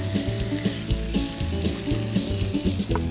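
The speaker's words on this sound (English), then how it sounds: "take my meat over here and listen to it sizzle" Venison meat sizzling in smoking-hot oil in a pan, a continuous crackling fry with small pops and occasional scraping clinks, close and fairly loud.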